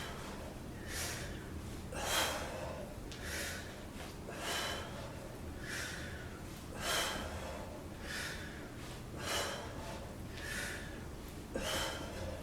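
A person breathes in and out during a strength and cardio workout, with audible rhythmic exhales and snort-like breaths repeating about every second or two over a steady background hum.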